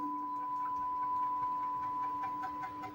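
A SilverBack 6060 CNC machine jogs its axes toward the material, giving off a steady mechanical whine with two constant tones held at an even level for the whole stretch, with no voices.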